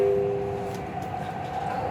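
A Dubai Metro train hums and rumbles steadily from inside the carriage, with a low tonal whine and constant rolling noise at moderate level.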